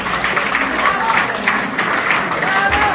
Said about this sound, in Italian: E facciamo un bel applauso